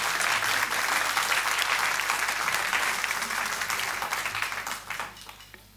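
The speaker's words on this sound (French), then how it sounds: "On pensait que tout le monde allait applaudir quand on disait ça." An audience at a live music show on radio breaks into dense, close applause that holds steady for several seconds before thinning out and fading at the end.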